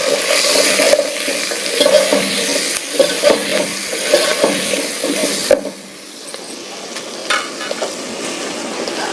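Bottle gourd pieces, drumstick pods and turmeric stirred and frying in a pan over crushed onions, a steady loud sizzle with scraping stir strokes that quietens partway through.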